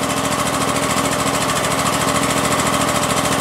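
A Kohler 27hp engine idles on an Exmark Lazer Z mower that has carburetor trouble. It gives a loud, steady, close-up mechanical drone with a fast even pulse and no break or voices.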